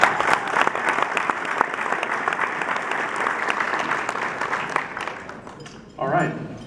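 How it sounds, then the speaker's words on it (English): Audience applause rings out at an opening ceremony for a new Palm Beach County official, loud sustained clapping that fades near the end before a voice begins to speak. "Let's give them a round of applause."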